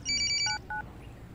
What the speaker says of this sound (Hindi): अब प्रसाद को फोन करो।